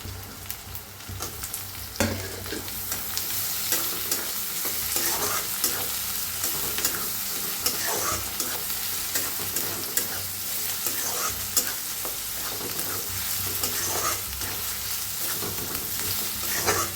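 Onion and tomato fry in a pan for a pumpkin vegetable dish, a steady hiss of sizzling oil under repeated scraping strokes of a spoon, close and constant throughout.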